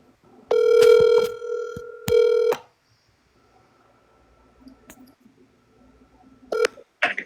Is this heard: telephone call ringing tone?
yes